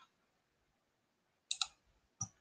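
Computer mouse clicks while choosing and opening a template in an online design tool: a quick double click followed by a single click, close and crisp against a quiet room.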